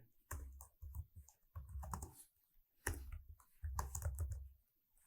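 Keys clatter on a computer keyboard as a Python list of fruits is typed, in bursts of quick clicks separated by short pauses, close and clear with no talking.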